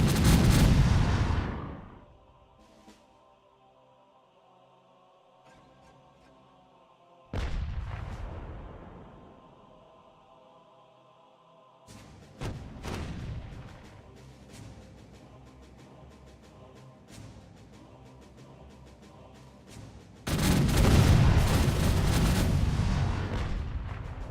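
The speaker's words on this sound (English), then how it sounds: "This had a bunch of cannons shooting at me." Cannons boom in a pirate-era naval battle in the video game Caribbean Legend: several loud, heavy blasts with long rumbling decays, separated by quieter stretches of creaking ship noise, and a final sustained barrage near the end.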